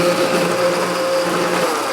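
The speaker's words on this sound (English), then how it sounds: "So this is just a quick blender mayonnaise or aioli, right?" A blender runs steadily, whirring as vegetable oil and extra virgin olive oil are mixed into mayonnaise or aioli, with a constant close motor hum and a slight change in pitch near the end.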